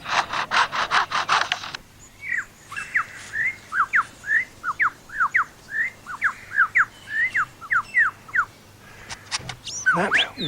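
A male bird imitates forest workers and their chainsaws, giving a run of rasping, saw-like bursts followed by a rhythmic series of sharp chirps and clicks, then more harsh buzzing at the end.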